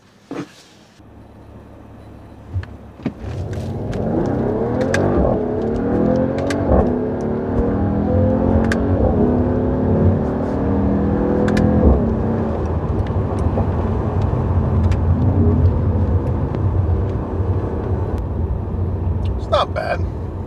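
A Mercedes-AMG GT 43 with 4MATIC drives off, its engine rising through revs with gear changes in a steady, close accelerating roar that lasts throughout, and a voice talks briefly over it.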